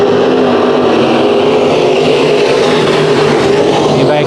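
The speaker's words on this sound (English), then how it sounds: "they all get to battle it out like a normal night of heat racing action" Sport mod race cars at Bakersfield Speedway during heat racing, a dense continuous roar of several engines at high revs, loud and close, with no break in the droning.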